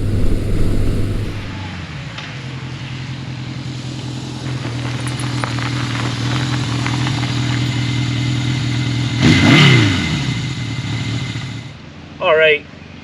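A 1980s musclebike runs with a steady mid-range engine drone, then revs briefly twice toward the end, loud and close throughout.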